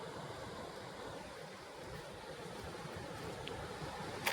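Floodwater pours over the spillway of the Shri Mhasoba Maharaj percolation lake at Takewadi, making a faint, continuous rushing roar with no voices.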